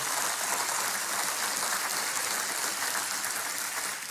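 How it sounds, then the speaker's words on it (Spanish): A church congregation applauds during a sermon, a steady, dense wash of clapping that holds evenly for about four seconds at moderate level with no talk over it. "Dale un aplauso a aquel que te ha bendecido."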